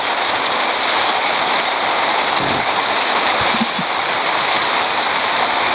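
Heavy rain pours down steadily outside a house, a dense, constant hiss of water that fills the whole stretch with no letup and no voices.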